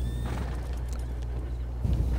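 Horse sounds from the video game Red Dead Online, with hoof clip-clops over a steady low rumble and a faint whinny, moderately loud and close with no talk.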